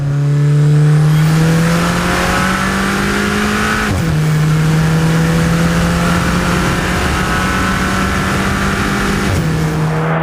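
A turbocharged mid-engine sports car producing about 255 to 260 horsepower drives hard on a race track, its engine note loud and steady as it rises through gears, with two brief dips for shifts.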